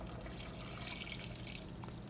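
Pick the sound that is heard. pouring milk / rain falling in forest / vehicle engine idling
pouring milk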